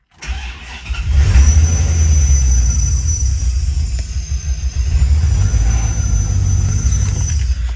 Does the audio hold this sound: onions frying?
no